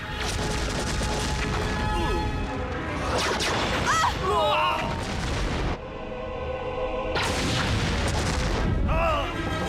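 Weapon fire blasts and explosions from a Power Rangers Time Force episode form dense, loud booms and whooshing bursts across the scene, mixed with music and voices, with a brief lull before another heavy barrage.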